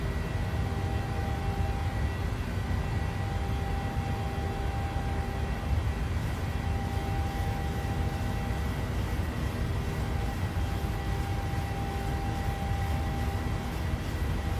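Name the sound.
PMDG 737-700 engines climbing in Microsoft Flight Simulator video game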